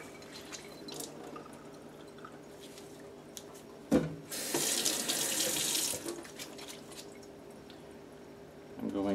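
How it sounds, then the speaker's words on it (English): Water splashes and streams from a tie-dyed, ice-dyed shirt as it is wrung out over a sink, a loud gush of a couple of seconds between quieter drips and handling noises, with a person speaking nearby. "Okay, so I'm going to wring this out."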